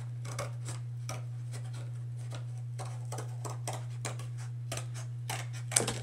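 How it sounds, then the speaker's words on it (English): Scissors snip along a drawn line on paper, cutting out a dinosaur shape in a steady run of short, crisp close-up cuts over a constant low electrical hum. "Just taking my scissors,"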